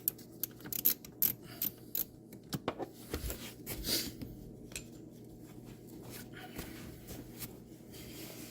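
A hex bit turns fasteners on a Porsche Boxster, giving quiet ratcheting clicks and scattered metallic taps at close range, with brief squeaks and no talk.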